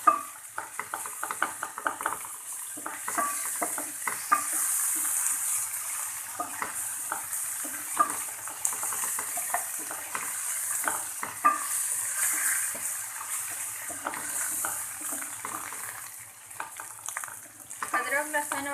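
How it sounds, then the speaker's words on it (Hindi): Ginger garlic paste frying with golden fried onions in a pan for a dahi baingan dish. A soft continuous sizzle runs under frequent scraping and stirring clinks of a utensil against the pan, close and moderately loud. "अब हम इसमें लहसुन अदरक का पेस्ट डालेंगे। 1 मिनट के लिए इसे भूनेंगे।"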